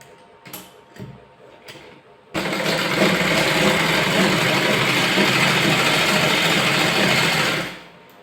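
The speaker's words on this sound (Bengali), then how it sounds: "সেলাই করে নিচ্ছি এটা।" Sewing machine stitching velvet fabric runs in one continuous loud whirring burst after a few light taps and handling clicks, then stops near the end.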